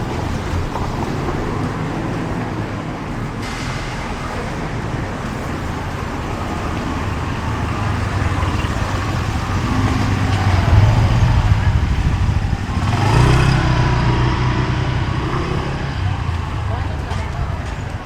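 A bus and other traffic pass close by on a road with no sidewalk, a steady loud roadway rumble swelling as a large vehicle goes by near the middle and again toward the end.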